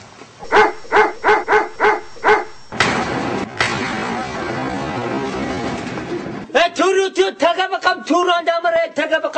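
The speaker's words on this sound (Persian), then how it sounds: "بابای ملو سگاتون گنده بود" Big dogs bark at a house, a steady row of loud barks, then a stretch of broad noise with voices, then faster, higher yelping barks at the end.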